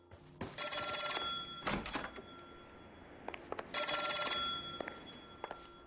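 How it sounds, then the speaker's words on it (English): An old-fashioned telephone bell rings in two long bursts inside the LA Noire video game, with a short thunk between them and a few faint knocks and footsteps after. "Oh, I got a phone call."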